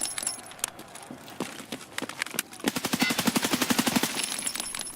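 An AK rifle fires in a video game, first as scattered single shots, then as a fast, loud automatic burst of evenly spaced cracks.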